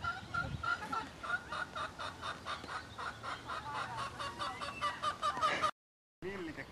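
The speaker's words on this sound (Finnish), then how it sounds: "Kanoja." Chickens clucking and calling in a steady, pulsing chorus, fairly close and loud, with a brief gap near the end.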